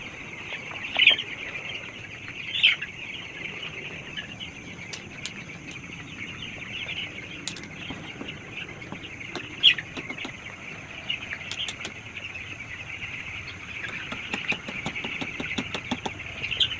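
Young poultry chicks chirp continuously inside a farm shed during feeding after a water-dosed vaccine, a dense high-pitched twittering chorus with a few louder peeps standing out.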